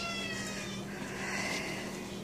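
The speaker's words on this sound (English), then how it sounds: "You're meowing at me." A cat meows softly indoors, the faint cry sitting over a steady background hum.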